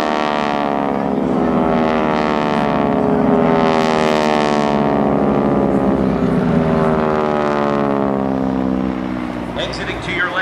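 A formation of GEICO Skytypers propeller aircraft drones overhead at a beach airshow, a loud sustained engine roar with shifting pitch as the planes pass, while a commentator speaks over the public address.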